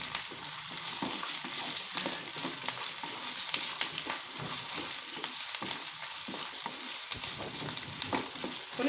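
Finely chopped potato and onion sauté in a pan for potato capsicum rice. A steady, moderately loud frying sizzle with crackles and occasional stirring scrapes continues throughout, with no one speaking.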